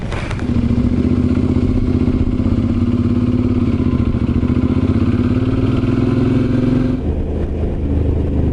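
A Suzuki motorcycle cruises steadily along a country backroad, its engine droning loud and constant with wind rush for several seconds before the note drops as it eases off.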